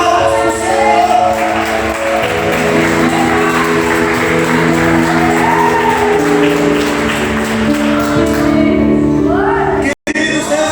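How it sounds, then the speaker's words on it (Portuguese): A church congregation claps steadily during an Easter-week service, a dense and sustained wash of applause that carries under held music tones and voices, then stops abruptly near the end. "Palmas do Senhor."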